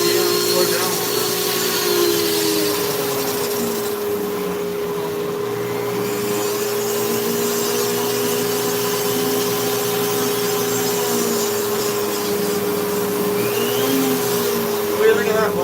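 A rotary power carving tool working wood, a steady high whine with shifting pitch as the speed changes, loud and close and running throughout.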